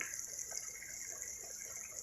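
Water trickles into spiced masala frying in a kadai while potato pilaf is being cooked, a faint, steady pouring and sizzle that carries on alone without talk.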